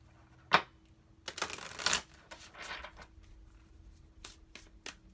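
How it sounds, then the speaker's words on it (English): A deck of cards is shuffled by hand in a quiet room, with several brisk riffling bursts, a few sharp snaps and softer handling rustles, close and fairly faint, with no talking. "Really think about it as I'm shuffling the cards right now."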